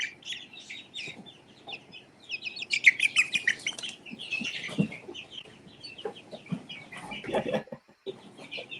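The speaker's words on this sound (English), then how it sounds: "that's my chickens" Backyard chickens clucking and squawking nearby, with bursts of agitated cackling and some wing flapping, intermittent over several seconds without talk.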